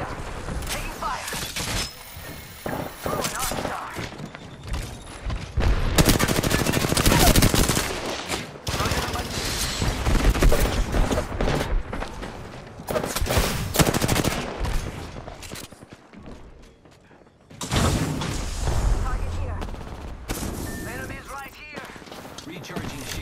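Bursts of automatic gunfire and single shots in an Apex Legends firefight, loud and close, in heavy rapid volleys with short pauses, mixed with game voice lines.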